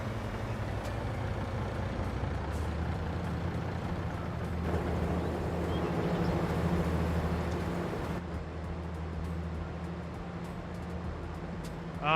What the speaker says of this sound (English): The truck here doesn't have too bad of mirrors.